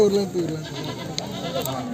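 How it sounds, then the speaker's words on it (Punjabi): A goat bleats nearby at a goat market, with wavering calls heard under and between people talking. "ਬੱਕਰੀ ਤੁਹਾਨੂੰ ਦਿਖਾਉਣੇ ਆ"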